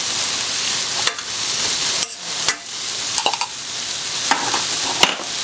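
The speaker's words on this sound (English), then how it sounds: "I'm going to go ahead and put in tomato paste. I'm on medium-high heat here." Tomato paste being stirred in a pan over medium-high heat: a steady close sizzle with scraping spoon strokes and a few sharper clicks against the pan, no talking.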